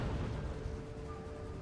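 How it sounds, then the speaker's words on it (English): Cannon artillery fires in the Napoleonic-era strategy video game Imperial Splendour, a low, rumbling boom that rolls on through a dull, moderately faint stretch with no talking. "Here comes my cannon shots ripping through."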